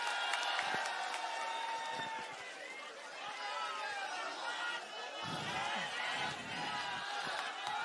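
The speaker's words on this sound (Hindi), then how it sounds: "जोरदार तालियां हो जाए संजय सिंह जी के लिए।" A large crowd at an outdoor political rally claps and cheers, a continuous wash of applause and chatter heard from within the gathering, swelling louder toward the end.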